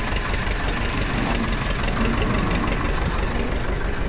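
A white two-cylinder 35-horsepower tractor engine idles steadily, loud and close, with a constant knocking chug that never changes pace.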